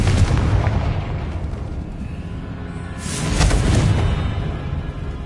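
A Confringo spell explosion in the video game Hogwarts Legacy, a heavy booming blast with a rumbling tail that swells again into a second burst midway, loud and close with no talking.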